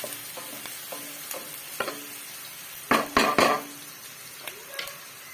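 Whole cinnamon, bay leaf and cardamom fry in browned onions for a broiler chicken dish, a soft steady sizzle punctuated by several sharp scrapes and clinks of a spoon stirring in the pan.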